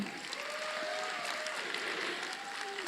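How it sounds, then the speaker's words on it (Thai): Applause for the staff team at an orientation day, a soft, distant, continuous crowd clapping with faint cheering voices and a thin whistle-like tone drifting through. "ขอเสียงปรบมือให้ทีมงานหน่อยได้ไหมคะ"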